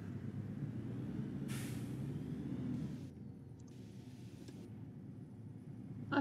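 A Mercedes-Benz O530 Citaro bus driven in the OMSI 2 simulator, a low engine rumble with a sharp hiss of air brakes releasing, then quieter idling with faint clicks, heard close from the cab.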